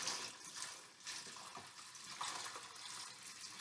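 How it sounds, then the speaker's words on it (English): Two litres of water pour from a measuring container into a basin, a steady rushing splash that swells and settles with no talking. "So 2 litres, I'm just going to pour it into the basin here."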